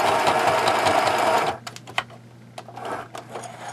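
A sewing machine stitches across folded fabric edges in a fast, loud, continuous whir that stops abruptly halfway, followed by a few quiet clicks and handling sounds.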